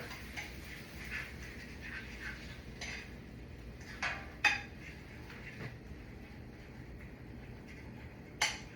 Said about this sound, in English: I'm going to stir this up with a fork